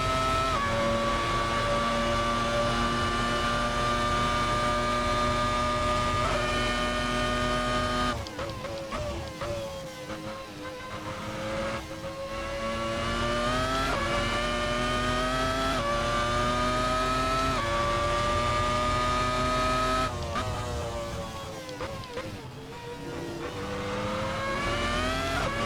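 A race car lapping in the Assetto Corsa racing game, its engine loud and close, revving up through the gears with steady rising pitch and sharp shifts and lifts around eight and twenty seconds. The engine runs alone with no talking.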